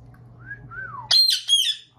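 A parrot whistles alone: a gliding, falling whistle, then a bright burst of higher warbling whistles, close and clear.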